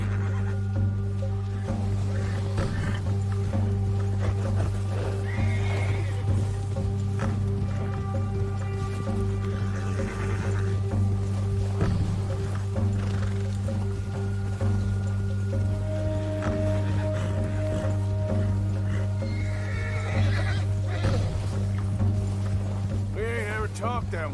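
A horse in Red Dead Redemption 2 whinnies and its hooves thud along, mixed with a steady low hum and moving water, while people talk over it throughout.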